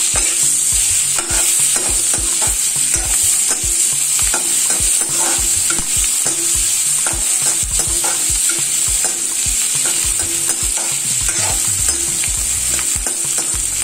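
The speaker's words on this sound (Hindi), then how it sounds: "अब इसमें पिए प्याज डालेंगे, प्याज लहसुन हरी मिर्ची अदरक ये सारा कुछ इसमें डाल देंगे। अब इसको भून लेंगे अच्छी तरह।" A paste of onion, garlic, green chilli and ginger fries loudly in a pan for shahi paneer, with a constant bright sizzle and busy scraping and stirring strokes close up, no voices.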